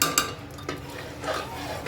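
A spoon scrapes and clinks against a pot while pav bhaji is being stirred, a few short, fairly quiet strokes with small metallic knocks.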